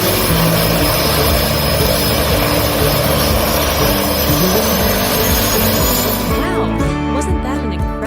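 A seaplane's propeller engine drones loud and steady throughout, a continuous close roar with a slight shifting pitch near the end.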